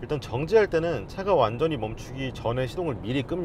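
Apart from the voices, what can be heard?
No everyday noises stand out.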